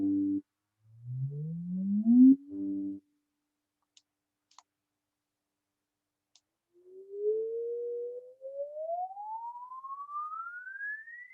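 A pure high-pitched sine tone sweeps upward, with a short rising chirp and steady tones early on, then a gap with faint clicks, then a long smooth climb that grows thinner and higher.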